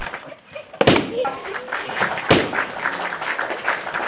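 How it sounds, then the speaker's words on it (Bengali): Balloons filled with water burst in a children's boys-versus-girls village game, two sharp loud pops standing out over a busy background of shouting and chatter from the players and onlookers. "তারা খুব সুন্দরভাবে বেলুনগুলো ফাটাচ্ছে এবং পানিগুলো বয়ামে ফেলতেছে।"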